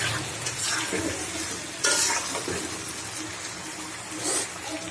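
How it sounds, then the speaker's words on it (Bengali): Taro roots and tilapia fish sautéing in plenty of hot oil, a close, busy sizzle broken by scraping stirs and clinks of a spatula against the pan, with a sharper burst of frying partway through. "কচুর মুখিগুলো দিয়ে সুন্দরভাবে কষিয়ে নেব।"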